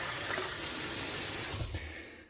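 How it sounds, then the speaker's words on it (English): Tap water runs steadily into a pot of rice being rinsed in cold or room-temperature water, a close, continuous splashing rush that cuts off and fades near the end. "So what you do is, of course, you pour in the water and you pour it out."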